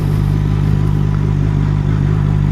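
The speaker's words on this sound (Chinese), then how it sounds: "我们在这怠速骑一下啊" ZXMOTO 500F Classic inline-four motorcycle ridden slowly at idle in first gear, a loud, close, steady low engine hum with an even pulsing rumble throughout.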